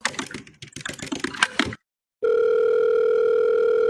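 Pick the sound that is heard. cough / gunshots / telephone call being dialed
telephone call being dialed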